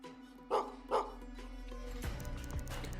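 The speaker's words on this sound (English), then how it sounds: "I hear another dog" A dog in the video game Gestalt: Steam and Cinder gives two short, sharp barks early on, followed by a low rumbling game ambience and clattering sounds.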